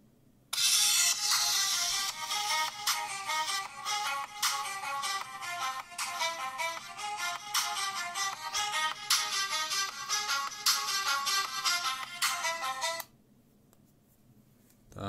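A Leagoo Kiicaa Mix smartphone plays its ringtone loudly for about twelve seconds, a bright, rhythmic electronic melody of repeated tones that stops abruptly, leaving near silence.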